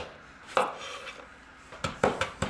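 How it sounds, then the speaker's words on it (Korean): Knife cutting chili peppers into rounds on a board while making sundae bokkeum, a few crisp close chops, one early and a quick run of four near the end, with no talking. "상큼한 매운맛을 담당한 고추는 둥글게 자릅니다"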